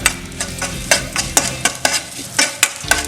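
Chopped ginger frying in a pan with tempering spices for moong dal, a spoon stirring in repeated scraping strokes over a light, steady sizzle, close and clear.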